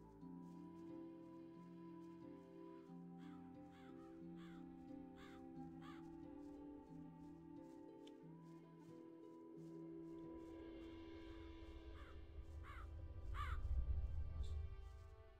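A crow in Gothic 2 caws again and again in short, sharp calls that are fairly loud and close. A steady tonal game ambience runs underneath, and rain-like noise swells near the end.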